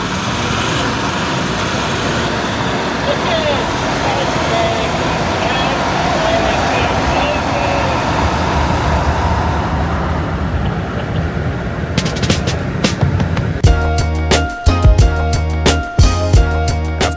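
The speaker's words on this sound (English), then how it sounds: "I'm gonna give him a little drag race." Tank 500 HEV SUVs accelerate side by side in a drag race while towing a three-ton caravan, a loud sustained engine and road roar that ends with music over it.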